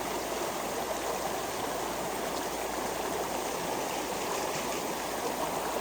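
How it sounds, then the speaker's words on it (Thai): Clear, strongly flowing stream water rushes steadily and loudly nearby, a continuous broadband wash with no break or talking. "ก็น้ำเนี่ยไหลแรงมาก"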